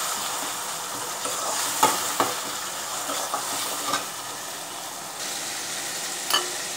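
Peeled tomatoes fry in a pan for chow chow kurma, giving a steady hiss and sizzle broken by a few light clicks of stirring, with no talking.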